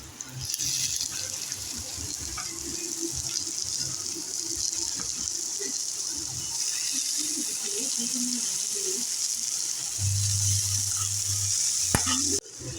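Sliced onions and red capsicum sauté in a hot pan, a continuous hiss and sizzle with stirring scrapes, close by, a low hum joining near the end.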